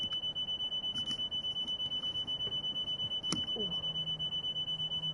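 Repeated electronic alarm beeping inside a train simulator game, a steady rapid pulse of short beeps at moderate level continuing throughout, with a brief click and a low tone entering near the end.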